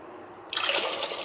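Water poured into yogurt-based lassi for karhi, a sudden splashing pour starting partway through and continuing steadily, close and fairly loud with no talk.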